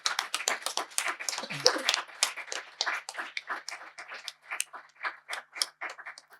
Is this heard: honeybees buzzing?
no